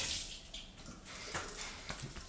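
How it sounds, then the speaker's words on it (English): Water splashes and sloshes steadily, as if scooped by hand onto a face over a sink, with a continuous close, wet rushing and no voices. "I need to pour some water in my face."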